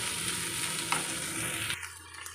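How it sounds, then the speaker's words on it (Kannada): Potatoes fry in oil in a pan while being stirred, a dense continuous sizzle with scraping stir strokes, close and steady before it suddenly thins out near the end. "ಇದೊಂದು 5 ನಿಮಿಷ ಫ್ರೈ ಮಾಡ್ಕೊಳ್ತೇನೆ ಈ ರೀತಿಯಲ್ಲಿ"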